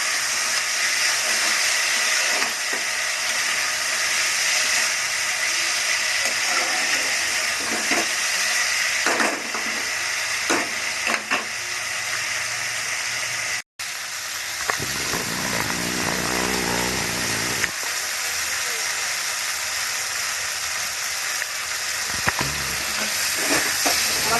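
Okra and onion frying with spices in a pan for a Bengali-style bhindi pyaz, a steady close sizzle with bursts of stirring and scraping throughout, no voices.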